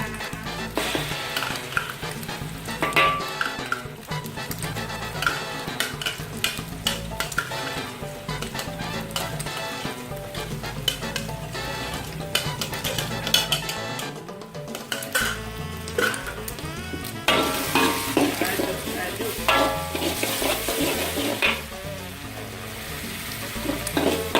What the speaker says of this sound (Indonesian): Aduk sampai baunya harum ya.